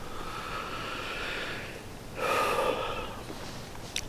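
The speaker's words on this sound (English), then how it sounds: "it picks up the sound of my breathing better than anything else" A hunter's breathing caught up close by a small cap-mounted camera outdoors, heard as soft airy breaths and a stronger snort-like exhale near the middle, over a quiet hiss.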